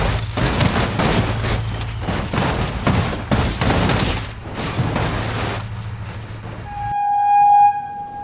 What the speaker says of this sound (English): my god, train!